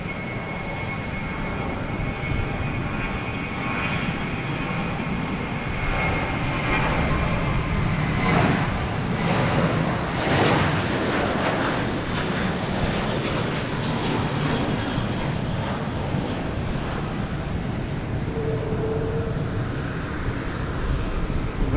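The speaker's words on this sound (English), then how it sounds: "We have a JetBlue A320 heading to Santo Domingo." A JetBlue Airbus A320 airliner takes off from Logan Airport with a steady, broad jet roar that swells slightly as it passes, heard at a distance with some wind noise and no talk.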